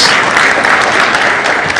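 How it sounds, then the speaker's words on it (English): Steady applause from an audience at a heated debate, a dense even patter of many hands clapping at close range, held at full strength without a break and with no voices over it. "A round of applause, please, for Dr. Maynard."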